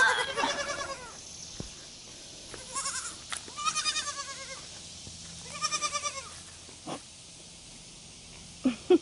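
Several goats bleat in repeated wavering calls at close range, spread across the clip with quiet gaps between them and faint scuffling in the background.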